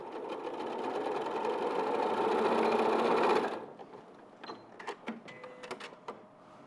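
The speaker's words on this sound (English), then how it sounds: "And then I'll just sew up this side." A sewing machine runs a seam with a steady, fast whirring stitch for a few seconds, close and clear, then stops, leaving light clicks and handling sounds.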